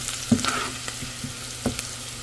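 Minced keema frying in a pan, a steady soft sizzle with a few light clicks and scrapes of stirring, quiet and close, no voices.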